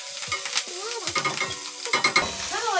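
Kale, mixed vegetables and fresh garden basil stirred and sizzling in a pan before chickpea batter goes in, with close, repeated scraping strokes over a steady fry.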